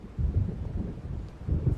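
Low thunder from an approaching storm in the Alan Wake game rolls in two heavy rumbling swells, deep and fairly close, with no voices.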